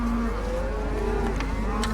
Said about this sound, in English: We're still going through the cows. Big cows, baby cows.